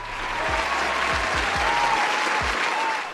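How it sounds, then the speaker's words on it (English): Enthusiastic applause from a crowd, steady clapping throughout with a few low thumps underneath. "Give him a round of applause."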